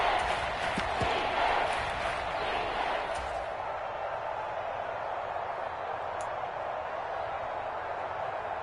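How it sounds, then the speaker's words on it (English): Stadium crowd in Madden 23 swelling as a big third down approaches, a broad steady roar that is loudest early and then settles into a sustained, slightly fading wash of cheering. "the crowd getting into it as we come up on a big 3rd down"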